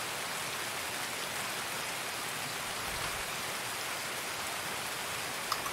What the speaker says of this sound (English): Just listening to this loud ass fucking rain while we wait for the game to work.